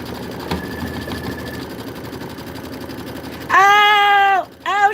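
An embroidery machine stitching autumn leaf designs whirs loudly and steadily for about a second, halts briefly, then starts again, following a quieter stretch of low mechanical hum.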